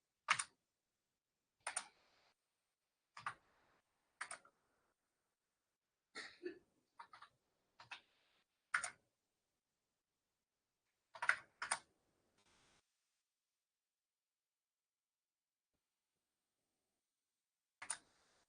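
Sparse keystrokes on a computer keyboard while entering text in a Red Hat Linux terminal editor: isolated crisp clicks and short bursts, quiet and close, separated by long silent gaps.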